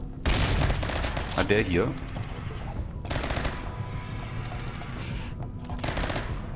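Rapid gunfire bursts from a firefight in the colony game Rimworld, with repeated broadband volleys loud through most of the stretch, pausing briefly, while someone speaks in German over the shooting.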